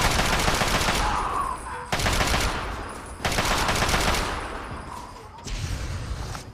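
Sustained automatic gunfire fills a Fallout 3 firefight, dense rapid bursts broken by brief gaps, loud and continuous throughout.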